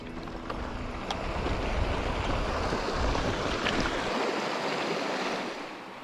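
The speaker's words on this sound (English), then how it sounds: "That's why we could hear running water." A small creek running through bush in Namadgi National Park, its steady broadband rush of water continuous and fairly close, fading out toward the end with no voices.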